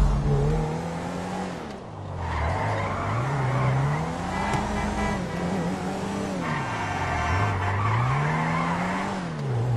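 Race cars in GTA 5 roar close and loud through a steady engine drone that rises and falls with revving, while tires squeal and skid through corners without a break.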